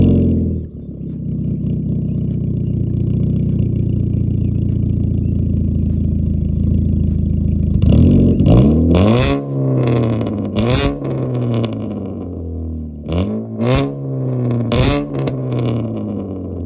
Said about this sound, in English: let's go ahead and give you guys a startup and show you what it sounds like.